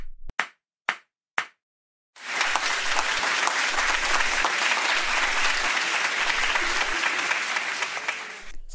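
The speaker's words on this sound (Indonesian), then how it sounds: "Beri tepuk tangan untuk kalian semua." Schoolchildren in a classroom give a round of applause: three separate sharp claps, a short pause, then steady, loud, dense clapping from the whole class that lasts to the end.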